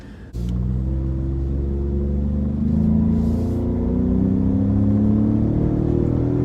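A deep, steady engine rumble from a 2018 Ford F-150 Raptor pickup truck, loud and close, with low droning tones that rise slightly as the revs climb; no voices.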